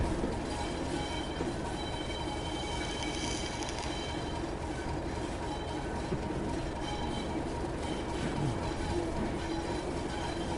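A large train rolls past in a PS4 video game, its steady broadband rumble and faint clatter holding at a constant level throughout with no voices.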